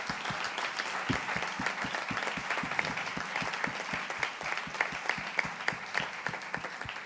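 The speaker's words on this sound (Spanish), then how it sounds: "Vamos a darle un aplauso en agradecimiento al Señor." An audience at a retreat claps in thanksgiving, a steady patter of many hands with a prominent rhythmic clap beating close by through the whole stretch, moderately loud, with no talking.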